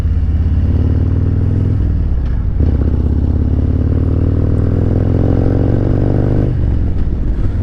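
A 2021 Harley-Davidson Road Glide Special with a Stage 2 upgrade runs loud and close, a deep, steady V-twin rumble that dips briefly and climbs as the throttle is blipped, with no talking over it.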